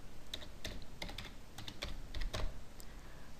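Quick, irregular keystrokes clatter on a computer keyboard while a password is entered into an account creation form, close and fairly quiet, with no voices.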